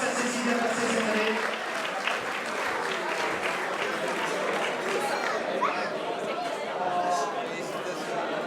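Applause from the audience at a 2014 OFAC ceremony, a steady sustained wash of clapping mixed with crowd chatter and voices throughout.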